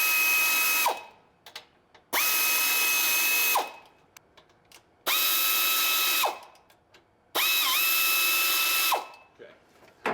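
Power tool driving a new band clamp tight on a stainless mandrel-bent exhaust pipe, four loud whirring bursts of about one and a half seconds each, separated by short pauses, with a ratcheting pitch dip in the last burst.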